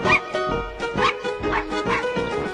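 Cartoon dogs at a dog grooming salon bark, yip and whimper in quick overlapping bursts, loud and close, with a few short high yelps mixed in.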